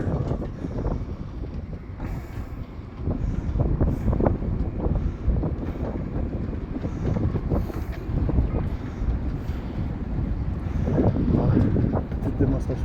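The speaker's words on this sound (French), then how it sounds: "Il va y avoir beaucoup de vent, parce que automatiquement, là, juste là-bas, là, c'est la plage." Strong, steady wind buffets the microphone near a beach by the port of Canet-en-Roussillon, a continuous low roar with gusty swells throughout.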